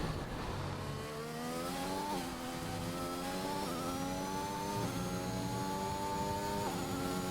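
A Williams Formula 1 car in a racing video game on a flying lap, its engine whining high and climbing in pitch through repeated gear shifts, heard from on board, steady and without talk.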